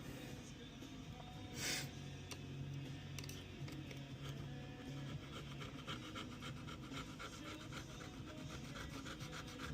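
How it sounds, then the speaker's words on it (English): Adhesive is scraped off the frame of an iPad A2602 digitizer with continuous close rasping and rubbing that stays fairly even throughout, with one brief sharper scrape near the start. "This adhesive is kind of a little bit much. Could scrape some of that out."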